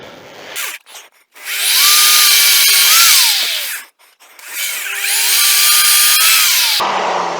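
Power drill boring into a turned wooden lamp base set on scrap wood, two sustained whining bursts with rising and falling pitch, separated by brief pauses, loud and close.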